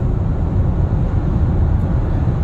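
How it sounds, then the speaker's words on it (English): A steady low roar of wind and road noise fills the cabin of a moving 2022 Volvo XC60 T8 Recharge, constant and even, with no one speaking. "there's a little bit of wind noise in here"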